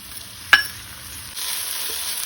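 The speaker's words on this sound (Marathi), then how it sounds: "कांदो तळसून जालो तातूंत हांव 1 टोमॅटो बारीक कापून घालता।" Chopped onion and tomato fry in a pan for Goan-style tendli bhaji. A sharp clink of a spoon against the pan comes early, and a soft steady sizzle follows that swells louder toward the end.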